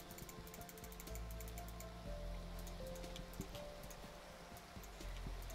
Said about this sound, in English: And it's raining, apparently.